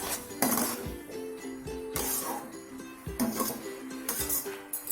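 A metal lid is set down on a cooking pan of braising cabbage, giving several sharp clinking knocks spread over a few seconds, close and fairly clear against a faint kitchen hum.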